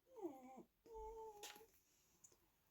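A dog whimpers quietly indoors, giving a couple of short, high, wavering whines with a brief pause between them, faint against a quiet room.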